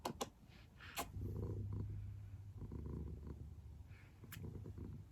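A house cat purrs softly and steadily while cuddling on a person's lap, a low continuous rumble with a few faint rustles and clicks nearby.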